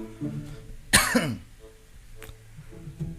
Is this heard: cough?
yes